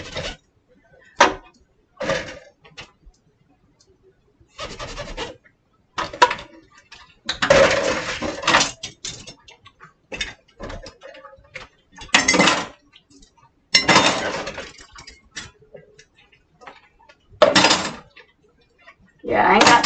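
Dishes and cutlery clink and clatter during home dishwashing, coming in irregular bursts of knocks and chinks with quieter gaps between, close by and fairly loud.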